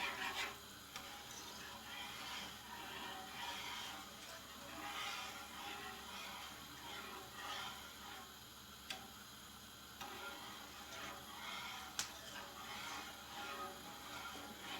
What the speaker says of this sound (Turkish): Benim tavam teflon olmadığı için tel çırpıcıyla karıştırıyorum